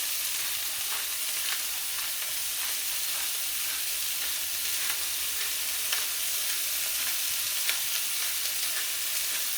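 Fajita meat sizzles in a hot frying pan with onions, a steady, close, crackling hiss with scattered pops that runs unbroken and alone throughout.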